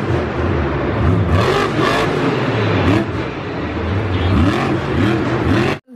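A red toy monster truck drives along, its small motor whirring steadily in a close, continuous buzz with rising and falling pitch sweeps throughout.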